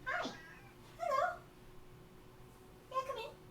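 A cat meows three separate times, soft and fairly faint, with quiet pauses between the calls and no talking.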